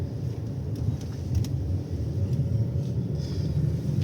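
Steady low engine rumble heard from inside a moving car on a rural road near a forest, a continuous dense drone with faint higher whines, no talk.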